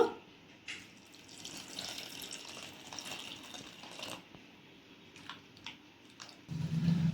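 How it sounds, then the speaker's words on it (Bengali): Water sloshes and trickles over grated potatoes being washed in a bowl, a faint close splashing and rustling with a few handling knocks, then a louder pour or rush of water at the end. "এরপর পরিমাণ মতো জল দিয়ে আলুগুলোকে ভালো করে ধুয়ে নেব।"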